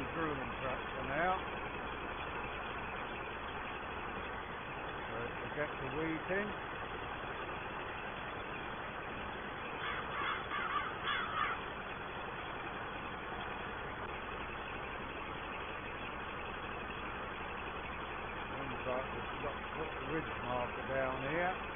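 Ford 5000 tractor engine running steadily while drilling winter wheat in a field, a continuous mid-low rumble with someone talking over it throughout.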